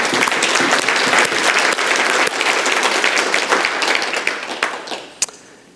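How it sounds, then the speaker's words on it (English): Sustained audience applause fills a business seminar hall, dense clapping from a crowd that holds steady for several seconds before tapering off with a few last scattered claps. "Give yourselves a big hand clap."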